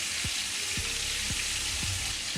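Squid sizzling in a frying pan on a home kitchen stove, a loud steady crackling hiss filling the whole stretch with faint low pops recurring about every half second, close up and without speech.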